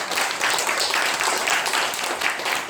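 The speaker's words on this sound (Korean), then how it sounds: "박수 드리겠습니다" Loud, continuous applause from a crowd, dense rapid clapping filling the room without pause.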